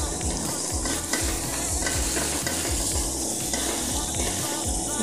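Ginger and garlic sautéing in a pan for chicken tinola, with a loud, close, steady sizzle and repeated rhythmic stirring scrapes throughout. No voices.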